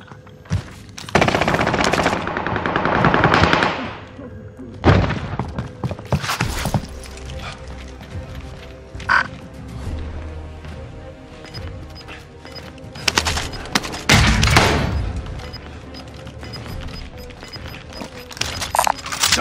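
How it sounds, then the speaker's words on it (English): Call of Duty Warzone gameplay on PC with loud bursts of machine gun fire, several rapid rattling volleys separated by quieter gaps with shorter scattered shots, close and punchy, with no speech. "Machine gun here, if you need it."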